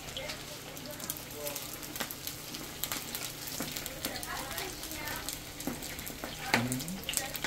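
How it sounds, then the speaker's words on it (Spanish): Sushi rolls frying in hot oil, a steady crackling sizzle with sharp pops scattered throughout, fairly quiet and close, with someone talking over it. "Así lo vamos a freír todo, mire gente."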